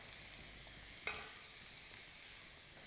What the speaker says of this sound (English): Together with my paprika and salt. And then just stir it up a bit.